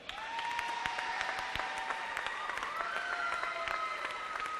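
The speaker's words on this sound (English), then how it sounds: "one more big round of applause for all of our seniors" Applause from a gathered crowd for senior players of the Sycamore boys and men's water polo team, steady clapping with scattered cheers and a whistle-like voice rising over it.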